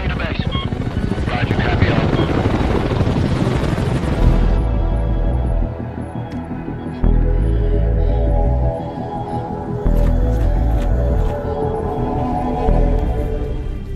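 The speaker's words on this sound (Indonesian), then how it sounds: "mendengar dan melihat helikopter tempur Amerika sedang melintas di atas mereka" An American combat helicopter's rotor thrum and engine drone hold steady and loud, with a rushing wash early on and wind buffeting the mic, no voices.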